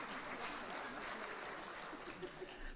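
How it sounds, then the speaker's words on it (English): Audience applause for the Marion City brass band at a Mount Gambier brass band festival, a steady dense wash of clapping throughout, moderately distant, with a little chuckling mixed in. "round of applause."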